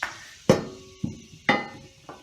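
A crowbar wedged between a lawnmower blade and its deck housing clanks sharply five times in a steady rhythm, with loud close metallic strikes and quieter knocks between them, and no talk.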